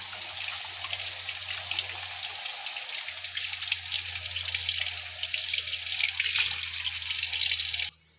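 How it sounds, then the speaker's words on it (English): Running tap water pouring over a balloon held beneath it, a steady splashing hiss with a faint low hum, continuous for about eight seconds before stopping abruptly. "I'll keep this balloon in running water."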